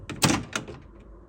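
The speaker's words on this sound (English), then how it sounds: "You want to open the door." A Wolf microwave oven door is pulled open, making a close latch clack and a thunk with a second softer knock, then quiet.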